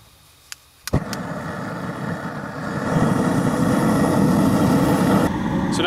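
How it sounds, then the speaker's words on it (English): A gas burner fired up hot beneath a tub of water, heating it to pasteurize straw for mushroom growing, makes a steady broad roar that swells after a couple of sharp clicks and holds on, fairly loud, with no talking. "So now you can hear the burner going in the background."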